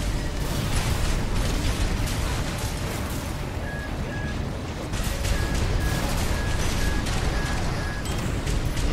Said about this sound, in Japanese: 爆撃の直撃はマジでやばい。